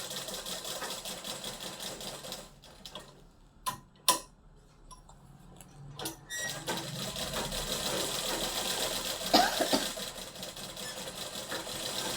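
A sewing machine stitches a long frock around a rounded neckline, running in close, steady bursts of rapid mechanical ticking with a short pause midway before picking up again.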